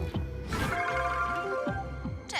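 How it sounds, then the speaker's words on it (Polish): A telephone rings on an outgoing call in a cartoon about robots, a steady electronic ring tone sounding alone and clearly for a couple of seconds while the caller waits for an answer. "Proszę, proszę, błagam, odbierz telefon!"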